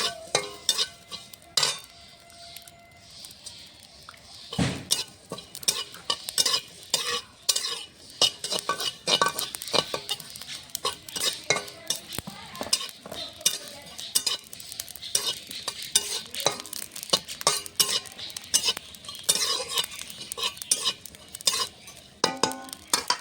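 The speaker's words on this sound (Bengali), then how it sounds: "এখন এর মধ্যে কটা গোটা জিরে দেব। জিরে কটাও ভেজে নেব।" Whole cumin seeds and green chillies fry in a hot pan, a steady crackling sizzle broken by frequent scraping stirs and metal clinks of a spoon against the pan, close and fairly loud throughout with no voices.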